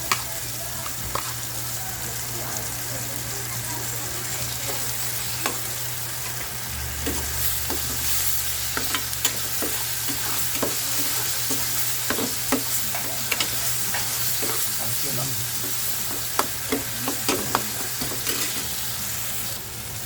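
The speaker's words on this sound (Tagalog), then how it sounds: "pwede na natin ilagay ang ating bawang sibuyas" Garlic and onion sautéing in a hot pan for a sayote dish, giving a continuous close sizzle broken by frequent clicks and scrapes of a spatula stirring; nobody talks.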